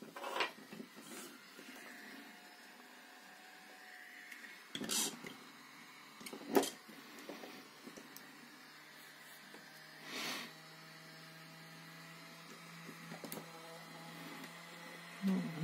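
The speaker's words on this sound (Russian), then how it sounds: "Вот вентилятор дует нам наш охладитель." A new cooling fan blows air over a spot-welding electrode holder on a test bench, giving a steady low whirr and hum, broken by a few scattered clicks and knocks, with no one talking.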